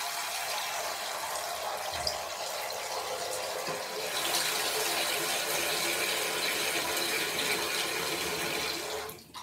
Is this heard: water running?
yes